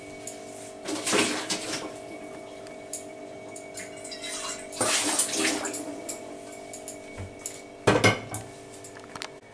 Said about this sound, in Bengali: আমি জলটা ফেলে দেব।